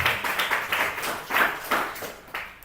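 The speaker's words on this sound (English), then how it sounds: "Let's clap for her one more time." An audience claps for a speaker at a talk, with a steady patter of hand claps rising and falling in waves over a few seconds, fairly close and clear with no talking.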